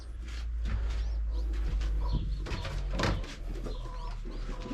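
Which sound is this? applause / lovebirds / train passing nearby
lovebirds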